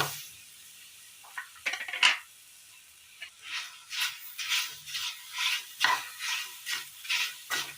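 Chopped jackfruit stirred in a pan on the stove, a scraping spatula clattering in short repeated strokes with light sizzle, close and fairly loud, no voices.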